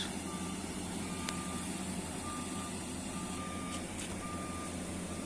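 A truck's reversing alarm at a corn harvest, repeated evenly spaced beeps coming through a constant loud engine and machinery roar.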